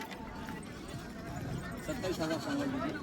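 Goats of the pure Gavran and Mondya breeds at a rural goat market, bleating a few times near the end amid a busy crowd, under steady talk.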